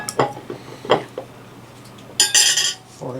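Plate and fork handled on a table, a few separate clinks and scrapes of cutlery against the dish, then a brighter burst of rattling tableware, close and fairly quiet, with no talking.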